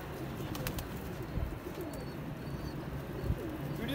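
Pigeons coo softly in a steady outdoor bird ambience, low repeated calls blending with faint chirps and an occasional flutter of wings, moderately near and continuous throughout.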